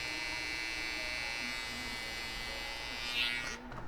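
Electric hair clippers fitted with a 1.5 guard, lever closed, buzz steadily through hair while setting a low taper guideline, a continuous close electric hum with no talking.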